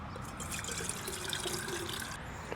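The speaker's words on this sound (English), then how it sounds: "Now I will dump some water into here." Water pours into a small camping mug or pot during outdoor camp cooking, a steady close trickle and splash that runs without a break, with a faint liquid ring near the end.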